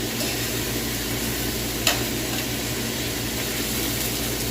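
Meat browns in a frying pan with a steady, close sizzle and a low mechanical hum underneath, plus one brief clink partway through; no one speaks.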